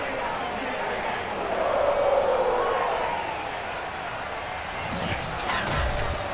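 Sold-out Cincinnati stadium crowd roaring as the Bengals take the field before facing the Ravens in Madden 22, a steady broad wash of cheering that swells around the middle, with a commentator talking over it.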